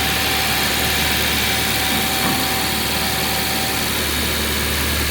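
A car engine runs steadily at close range, a constant dense mechanical hum and roar with no obvious change in pitch and no voices.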